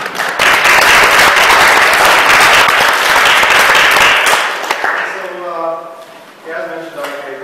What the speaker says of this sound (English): So we can get a big round of applause for Marc